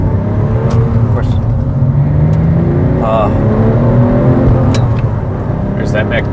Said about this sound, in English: There's that Metzger Flat 6 sound, huh?